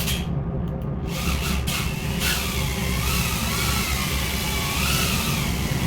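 BetaFPV Cetus X small FPV drone flying indoors, a continuous close whirring motor buzz with shifting pitch as it maneuvers, a few bumps near the start.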